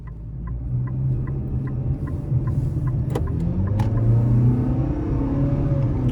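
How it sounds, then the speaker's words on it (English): 2025 Nissan Kicks SV with the 2-liter engine driving on the road, heard from inside: steady low engine and road rumble rising as it accelerates, with faint ticking, no talk. "let's go ahead and take this 2025 Nissan Kicks SV out on the road for a test drive"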